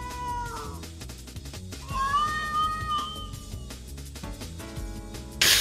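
A cat meows repeatedly in the Human or Not video game, with drawn-out rising and falling calls that come close and clear over a quiet background, ending in a sharp noisy burst.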